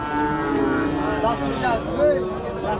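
Cattle lowing at a busy livestock market in Rajshahi during the Eid sacrifice sales, a drawn-out moo rising over a steady crowd murmur with people talking nearby.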